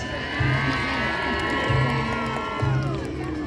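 A crowd cheers at a St George's Day jousting show in Telford, with bursts of whoops and shouting that swell three times over a continuous roar of voices.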